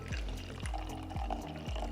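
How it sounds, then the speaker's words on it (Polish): Water is poured into a carafe, a brief, close, gurgling pour with splashing glugs. "Dla wygody wlewamy wodę do karawki, ale możesz to robić również bezpośrednio z butelki."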